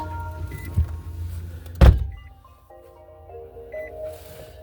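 Car interior sounds as a door slams shut with a sharp thump midway, followed by a low rumbling cabin hum and a faint electric whine, no talking.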